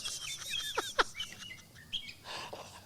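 A pet bird chirps nearby, a run of quick bright tweets and sharp calls with short pauses between bursts, heard alone with no speech.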